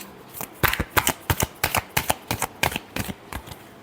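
Tarot cards are shuffled by hand in a run of about a dozen quick, crisp riffling bursts at an even rhythm, close and alone with no voice.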